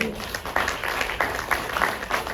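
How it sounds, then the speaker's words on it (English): A small audience claps for TK, the film director Tunde Kelani, during an interview event: brief, uneven applause with distinct separate claps in a quick rhythm. "I think TK deserves a round of applause."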